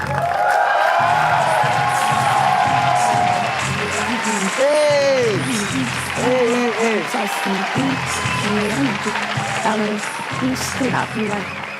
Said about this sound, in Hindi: सो प्लीज और जोरदार तालियों से स्वागत किया जाए मनीष मल्होत्रा के नाइटमेयर का उर्फी जावेद.